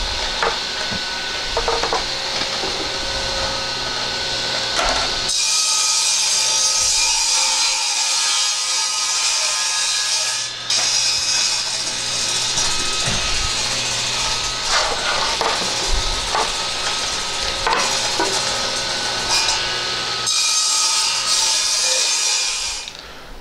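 Saw cutting melamine cabinet panels to width in a home shop, a steady whining, hissing cut running nearly continuously with brief dips between passes, close and fairly loud.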